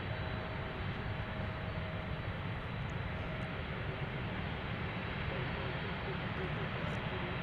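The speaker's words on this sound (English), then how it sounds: "you see Japan Airlines with their 777 right there" A Japan Airlines Boeing 777 at DFW airport gives off a steady, broad jet-engine roar that fills the air throughout, with a faint tonal whine riding on top and people talking quietly beneath it.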